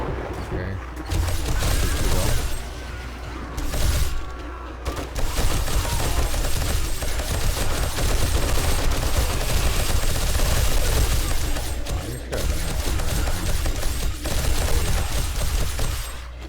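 Rapid, sustained gunfire from various guns in the video game 7 Days to Die, dense and loud throughout with brief pauses, and someone talking over the shooting.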